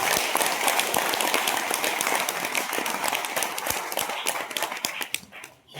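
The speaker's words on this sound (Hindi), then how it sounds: "एक बार गुरुदेव का जोरदार तालियों से स्वागत करते हैं।" An audience at an RCM campaign gathering welcomes a guru with loud, dense applause, many hands clapping continuously in a close, sustained burst that thins out and stops near the end.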